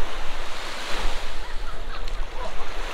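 Sea waves roar at Pattaya beach in strong wind, a loud, surging wash of surf with gusty wind buffeting the microphone and no voices.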